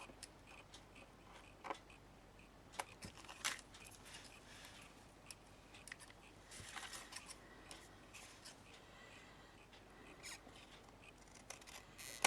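Scissors snip through fabric scraps in a quiet room, giving a scattering of soft, sharp clicks and crisp cuts at an uneven pace, close by and faint.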